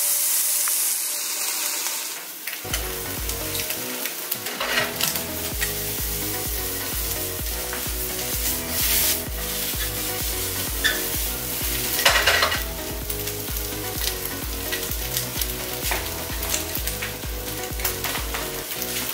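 Food seasoned with salt, pepper and garlic powder sizzles steadily in a pan as it browns, with occasional utensil clatter and stirring close by and no talking.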